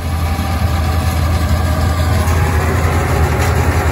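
A tractor engine runs steadily nearby during a paddy harvest, giving a continuous low, heavy rumble with no break and no talk.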